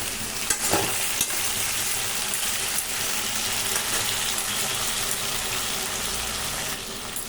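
Spice paste for a winter-vegetable khichuri fries in a pan, hissing in a dense, even sizzle throughout, with a few faint clicks from stirring.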